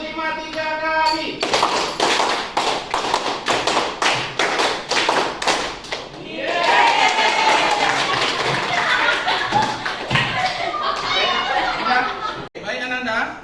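A teacher leads a counted clapping warm-up, hands clapping in quick rhythmic bursts of taps, close and loud, under spoken counting and a little chatter.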